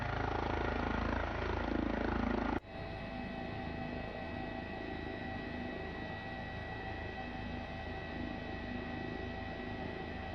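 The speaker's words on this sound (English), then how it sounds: "the growl is the main rotor head" A steady, droning helicopter rumble from the main rotor head of an H135 in Microsoft Flight Simulator, a low throbbing growl, loud and continuous after a sudden shift in tone early on, with no talking.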